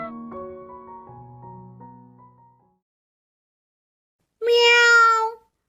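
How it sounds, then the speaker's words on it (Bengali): A cartoon cat gives one clear, close, drawn-out meow near the end, following a softer run of tonal notes and a stretch of silence. "বিড়ালের ডাক শোনা যাইতাছে"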